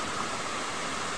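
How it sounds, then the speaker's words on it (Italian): Steady broadband roar of the Cascata della Ninfa waterfall in Parco di Veio near Rome, a loud continuous rush of falling water with no other sounds. "E notate che cascata incredibile che c'è."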